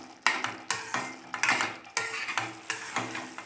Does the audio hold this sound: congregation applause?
no